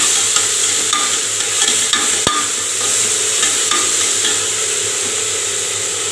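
Onions sautéing with ginger garlic paste give a steady, close sizzle with repeated spoon scrapes and one sharp knock partway through, alone without talk.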